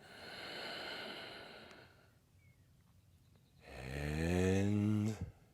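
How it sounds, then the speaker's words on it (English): Breathwork exhale after a long inhale, first a soft airy breath, then a loud rasping, voiced sigh of breath out that ends abruptly, close to the microphone. "And breathing out."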